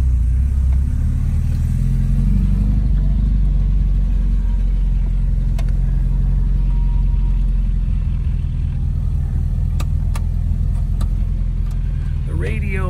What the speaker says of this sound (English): Engine's got a nice little putter.